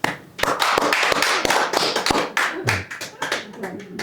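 A church congregation in a Sunday Bible study claps for a returning member, a brief burst of quick, uneven hand claps close by with a few louder thuds and voices chattering in between.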